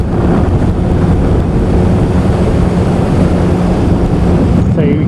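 Heavy wind blast roars steadily over a Yamaha RD350 two-stroke motorcycle at riding speed, loud broadband rushing that buries the engine from start to finish.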